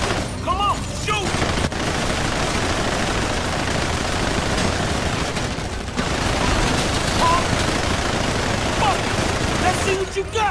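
Rapid gunfire in a video game, sustained bursts of automatic shots and booms that fill the scene loudly and nearly without pause.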